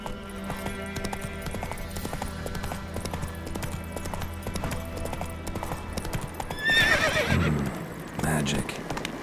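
Roach, the horse in The Witcher 3, gallops with a rapid, steady clip-clop of hooves close by, then lets out a loud neigh near the end, with a voice briefly over the hoofbeats.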